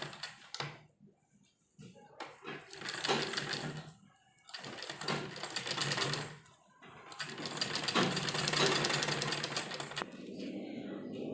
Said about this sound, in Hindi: और इसी तरह हम इधर सिलाई लगाएंगे